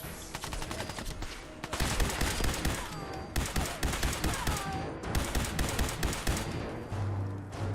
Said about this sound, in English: they've got, like, really heavy machine guns, because gunners are well equipped